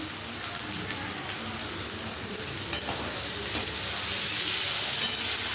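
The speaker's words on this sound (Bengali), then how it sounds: "টমেটোটা কষা হয়ে গেছে ক্যাপসিকামের টুকরোগুলো দিয়ে দিচ্ছি" Capsicum pieces hit a pan of cooked-down tomato with garlic and ginger, producing a loud, continuous hissing sizzle that swells slightly toward the end, with a few scraping stirs.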